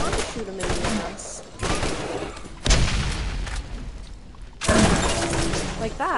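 Bursts of gunfire in the video game Borderlands come in several loud volleys separated by short pauses, with a player talking over the shooting.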